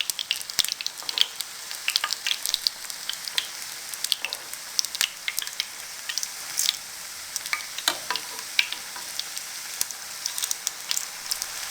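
Besan bhalle crackle and sizzle in hot cooking oil, a close, steady spray of small popping bubbles with sharper spits scattered throughout.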